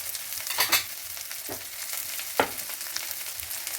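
About a teaspoon of sesame seeds frying in a pan for a Rajasthani gatta curry, a soft continuous sizzle broken by several sharp scraping strokes of a spoon, with no voices.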